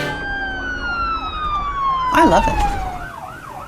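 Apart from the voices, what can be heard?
ambulance siren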